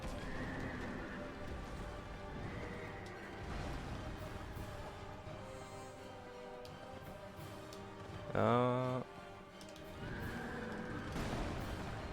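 A boss's horse in Dark Souls 2 lets out one loud, close whinny, standing out briefly over low game ambience and battle noise.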